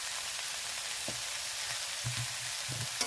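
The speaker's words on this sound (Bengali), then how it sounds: "দিয়ে আবারও আমি একটু নেড়ে দিয়ে ঢাকা দিয়ে দেব" Salted drumstick flower curry fries in a pan with a constant soft sizzle, and a spoon stirs it in a few short scraping strokes. No voices.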